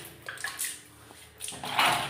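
Water splashed over bathroom tiles during cleaning: a few short bursts of pouring and splashing water close by, separated by a brief quieter gap.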